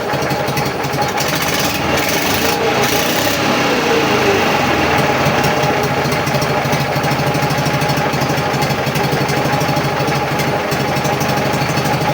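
A Prykarpatets mini tractor engine idles close by, holding a loud, steady, unbroken rumble with a constant low hum throughout, and no one speaks.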